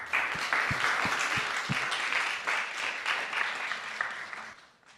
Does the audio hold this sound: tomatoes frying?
no